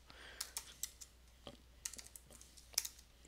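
Fingers tap on a computer keyboard in quiet, close clicks at an irregular rhythm, with a few sharper keystrokes standing out.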